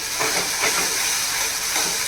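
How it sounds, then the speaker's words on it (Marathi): Spices for rajma fry in hot oil with a loud, steady sizzling hiss that runs unbroken from start to finish. No one speaks. "ती पण आपल्याला ह्याच्यामध्ये छान फ्राय करून घ्यायची आहे"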